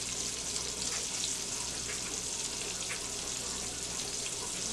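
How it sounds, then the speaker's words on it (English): Spring morel mushrooms partially frying in a pan, a dense continuous hiss and crackle of sizzling oil that stays steady and fairly loud throughout, with no talking. "Now you can also preserve these by partially frying them like this."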